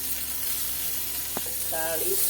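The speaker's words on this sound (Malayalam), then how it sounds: "ഉള്ളി സവാള ആദ്യം വാട്ടാം" Onions sautéing in a pan with salt, making a steady close sizzle with a single sharp clink of a utensil partway through.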